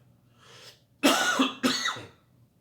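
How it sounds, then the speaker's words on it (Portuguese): A few sharp coughs from a teacher during a history lesson, two loud bursts close together near the microphone after a faint breathy sound, with no talking over them. "acabei tossindo um pouquinho aqui"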